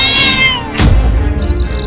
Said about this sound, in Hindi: उन बिल्लियों की माँ उस शेर से लड़ गई है अपने बच्चों को बचाने के लिए।